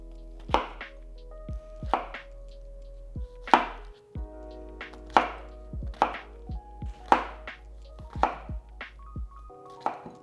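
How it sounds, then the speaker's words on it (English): A knife chops shiitake mushrooms steadily on a cutting board, about a dozen crisp thuds at a slow even pace, close and clear with a faint hum behind. "we're going to chop the shiitake mushrooms into smaller pieces"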